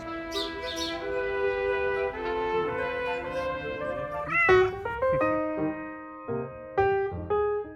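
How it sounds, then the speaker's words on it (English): Cats in the streets of Jerusalem meow close by, a run of drawn-out, wavering cries followed by several shorter, sharper meows spaced apart, loud and clear with no talking. "Everywhere you go in Jerusalem, you see cats."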